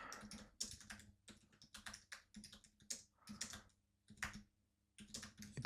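Keystrokes patter on a computer keyboard as an email is written, irregular bursts of quick close taps separated by short pauses, fairly quiet and with no talking.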